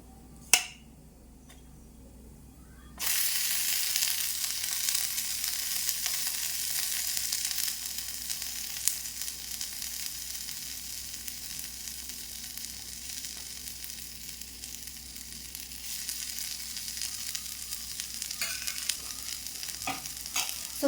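A pizza base cooks in a pan on the stove without an oven. A brief click comes first, then a loud, bright, steady sizzle sets in after the flip and keeps going with small ticks, and no one speaks.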